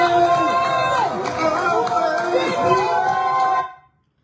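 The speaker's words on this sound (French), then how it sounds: "Sur d'autres images, certains habitants scandent le mot « liberté »." Residents of Gabon in a street crowd chanting "liberté" together, a dense mass of voices rising and falling under a raised, continuous roar, then cutting off abruptly at the end.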